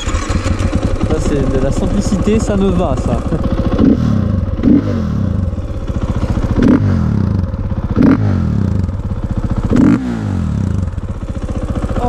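KTM 450 EXC enduro motorcycle from 2014, kick-started and then revved in a series of sharp throttle blips over a steady idle, close by, with someone talking over the engine.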